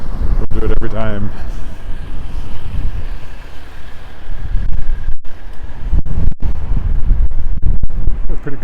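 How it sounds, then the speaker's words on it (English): Wind gusting between tall condo buildings on a downtown city street in Regina, with strong, steady buffeting and rumble on the microphone through the whole stretch, loud and close, alongside someone talking. "I think that's where that last gust of wind was coming from."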